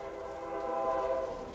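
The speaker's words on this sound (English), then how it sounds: "that's a train behind me" A train rumbles past somewhere behind an outdoor spot, a steady broad roar that swells slightly and holds for the whole stretch, with no talking.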